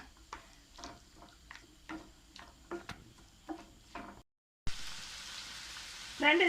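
Ingredients for kadai paneer sautéing in a pan, a quiet sizzle under repeated light taps and scrapes of a spoon, then a brief silence before a louder, steadier hiss picks up near the end.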